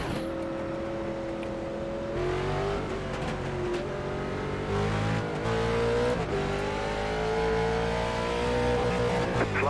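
A late model race car at Concord Speedway in iRacing roars loud and close, revving up through the gears with pitch rising and falling through the turns and a brief tire squeal, with no voices.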